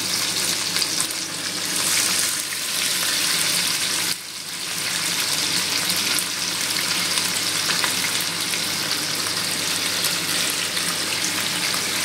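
Fresh mourola fish sizzle and spit in hot oil, a loud, dense, steady frying hiss that continues close up, with a brief dip as the fish are stirred; no one talks.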